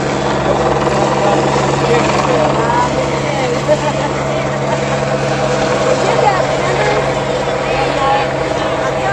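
Helicopter rotor and engine roar hanging steadily overhead above a street protest rally in Atlanta, loud and continuous for the whole stretch while crowd chanting and shouting carry underneath.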